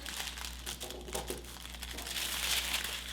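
Scissors cutting through a paper sewing pattern piece, soft close crinkling and rustling paper with small snipping crunches, quiet over a low steady hum.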